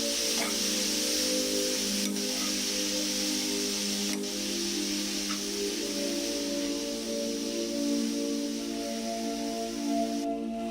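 Vegetables for a momo filling frying in a pan, a continuous close sizzle with a steady hiss and a few faint stirring taps, no voices.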